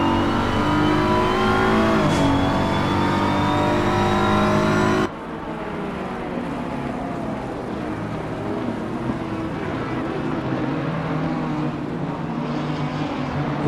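A BMW and an Italian GT3 race car drive in a sim racing game on the Paul Ricard circuit, their engines droning loud and steady with pitch-shifting revs, and the tone shifts abruptly partway through.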